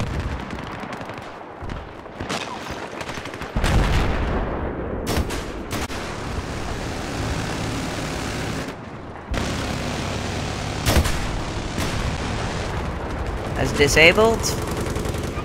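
Battlefield 3 multiplayer gunfire, with bursts of shots and booming explosions scattered through the clip, loud and close, mixed with game noise and people talking over it.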